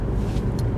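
A Honda Civic Type R FD2 with a K20A engine cruising in 6th gear at about 1500 RPM and 30 mph, a steady low engine and road rumble heard from inside the cabin, with no speech.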